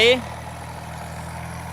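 A John Deere 5076E farm tractor idles with a steady low diesel rumble and a faint, even ticking, heard close after a brief voice at the very start.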